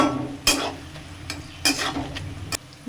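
Onion, green chillies, turmeric and salt fry in a pan for Bengali-style mutton, a soft sizzle broken by several sharp scraping strokes of a spatula.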